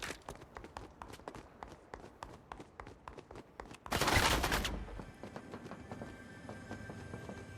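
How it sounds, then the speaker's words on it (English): Gunfire in the video game Fortnite, with rapid repeated shots and running footsteps at moderate volume and a sharp, loud burst of noise midway, followed by continued lighter shots. "Stop shooting at me and shit!"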